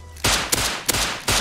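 Gunfire in the video game Rust: a few sharp, loud shots fired in quick succession, each burst cracking close and abruptly.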